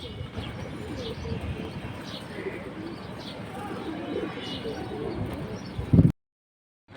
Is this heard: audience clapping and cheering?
no